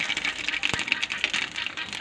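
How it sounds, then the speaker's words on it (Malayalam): Mustard seeds pop in hot oil in a pan with curry leaves, a rapid, irregular crackle of small sharp pops, moderately quiet and close, with one louder snap standing out, and no talking. "കടുക് നന്നായി പൊട്ടട്ടെ"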